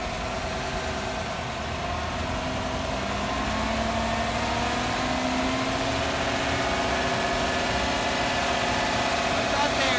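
A Chevrolet Silverado engine idles in a steady, even drone, close and continuous, with a faint rise in pitch partway through.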